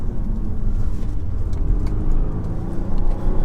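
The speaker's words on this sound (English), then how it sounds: "Sounds quite good, this car, doesn't it, really?" A 300hp Volvo V60 B6 engine drones steadily at close range, a deep continuous rumble that pushes harder as the car speeds up, with road noise underneath.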